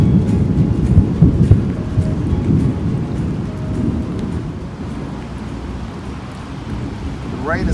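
Steady rain falls with low rumbling thunder during a storm outdoors by fishing water, loudest early on and easing slightly toward the end, with no voices.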